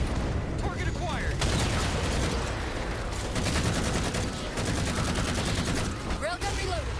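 Heavy railgun and weapon fire aimed at Covenant Phantom dropships during a Halo 4 battle, with dense gunfire bursts and booms running throughout over constant combat noise.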